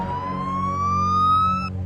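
An ambulance siren sounds loud and close, a single steady wail that sweeps slowly upward in pitch and holds there, with no talking over it.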